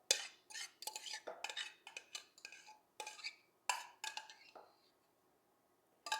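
Kirschwasser cherry filling spooned from a pan into a bowl: a close run of quick metallic clinks and scrapes of a spoon against cookware, in uneven bursts, fading to near quiet near the end.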